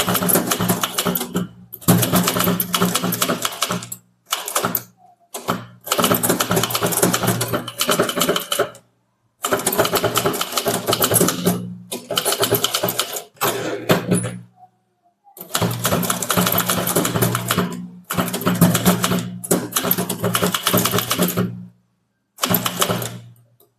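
Rapid bursts of typing on a Tamil typewriter, loud and close, with clattering keystrokes broken by short pauses and carriage moves.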